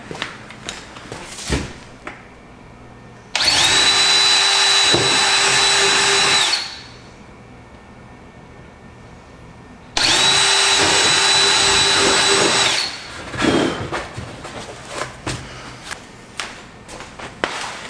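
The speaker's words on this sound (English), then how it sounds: "mark where I need to drill 2 holes right there" A power drill whirs loudly in two bursts of about three seconds each, drilling holes for a winch install on a Yamaha Viking, with quieter clattering and handling noises between and after.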